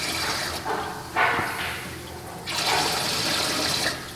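Water gushing out of an aquarium manifold while it is rinsed, a steady close rush with louder surges partway through and toward the end, no talking.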